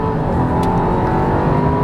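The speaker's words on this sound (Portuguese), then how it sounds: "o carro tem Launch Control, tá vendo, ó? Ó o giro. E agora o carro já sai bem mais quente" Audi A6 sedan, 2021 Prestige Plus, pulling away hard from a launch control start, its engine note a loud, steady, close roar that holds high revs for the whole stretch without a break.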